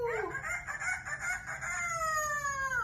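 A pet parrot imitates a rooster's cock-a-doodle-doo, a single drawn-out crowing call with a rising start and a long falling tail, heard fairly faint and close in a quiet room.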